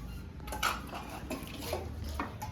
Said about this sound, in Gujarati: આમને વાસણ ધોવે છે.